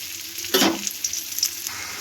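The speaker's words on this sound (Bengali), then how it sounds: "তো চালটা একটু ঘিয়ের মধ্যে ভালো করে নেড়ে নিচ্ছি।" Rice stirred and fried in ghee in a pan for khichuri gives a short loud scraping sizzle near the start, then a softer steady hiss with light stirring clicks, with no voices.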